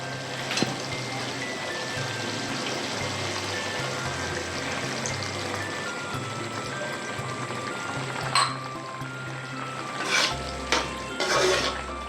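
Bread halwa with a glass of milk is stirred in a pan, giving soft, steady scraping and gentle liquid sloshing throughout, with a few louder utensil knocks against the pan near the end; no one speaks.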